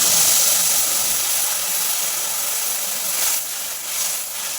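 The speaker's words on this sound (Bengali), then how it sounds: "ওই তেলের মধ্যে 5 ফোড়ন দিয়ে দেবো, তেঁতুলের কাপ দিয়ে দেবো" Five-spice seeds and tamarind sizzle in hot oil in a pan, a loud, steady, close hiss that stays even and fades slightly toward the end.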